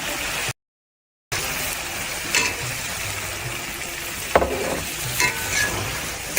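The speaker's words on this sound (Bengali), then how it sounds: "এবার আমি পা কলিজা আর চামড়াটা দিই" Chicken feet, liver and skin dropped into a pan of spices and frying with a steady, close sizzle, broken by a brief silent gap and a few sharp clatters of stirring.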